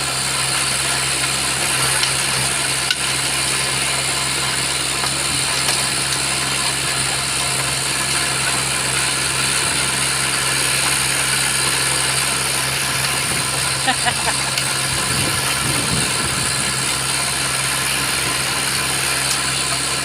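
A small tractor running a rotavator in a farm field with no driver aboard, its engine chugging steadily with a rattling mechanical clatter that stays constant and loud throughout.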